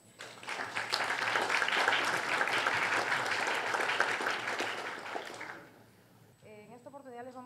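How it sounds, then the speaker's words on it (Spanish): An audience at a legal seminar breaks into sustained, even applause welcoming a guest speaker, fading out near the end before a voice begins talking. "a quien recibimos con un fuerte aplauso."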